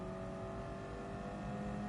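Race car engine holding a steady, droning note in Gran Turismo Sport, a continuous hum that stays level and even for the whole stretch without any clear rise in pitch.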